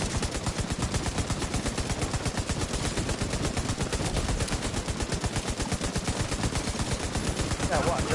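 Sustained light machine gun fire from The Division video game, a dense rapid stream of shots running the full length without pause, loud and continuous with faint game ambience behind.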